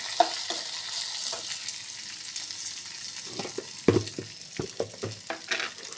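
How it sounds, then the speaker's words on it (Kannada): Small pieces of cinnamon and cloves fry in a pan for patrode masala, giving a soft steady sizzle. Light stirring scrapes and taps come through, growing busier toward the end. "ಚಕ್ಕೆ, ಮೊಗ್ಗು ಎಲ್ಲ ಚಿಕ್ಕ ಚಿಕ್ಕ ಪೀಸ್ಗಳನ್ನು ಹಾಕ್ತಾ ಇದ್ದೇನೆ. ಅದನ್ನು ಕೂಡ ಸ್ವಲ್ಪ ಫ್ರೈ ಮಾಡ್ಕೊತೇನೆ."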